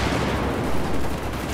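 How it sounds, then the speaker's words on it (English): Dense gunfire in Battlefield 4 on the Operation Locker map, a sustained loud roar of overlapping shots and blasts filling the moment with no clear pauses. "Some dude just shot me."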